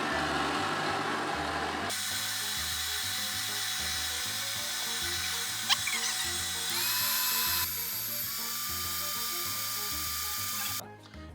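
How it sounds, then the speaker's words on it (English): A stand mixer creams butter and sugar at low speed with a steady, loud motor whine and a rhythmic churning pulse that runs throughout before cutting off near the end. "So into the stand mixer that goes, and at a low speed, or with a handheld mixer, you're just gonna go slowly and get these to cream together."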